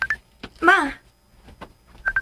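Short telephone tones beep at the start and end of a brief moment as a call comes in, separated by a burst of speech and quiet gaps.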